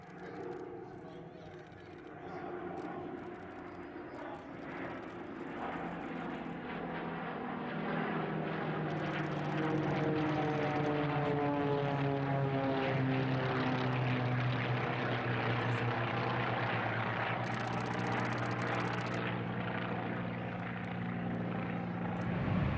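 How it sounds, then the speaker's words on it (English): Formation of an Aero Commander, P-51D Mustang, T-28 Trojan and F-86 Sabre flying past at the Oshkosh AirVenture airshow, a swelling roar of propeller and jet engines with Doppler-shifting tones, loud and sustained, with some crowd voices. "An Aero Commander leads the formation, flanked by a P-51D Mustang, T-28 Trojan and F-86 Sabre."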